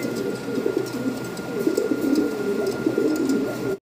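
A fancy pigeon of the single morana breed coos close by in soft, repeated low throaty rolls, with faint background noise and no talking.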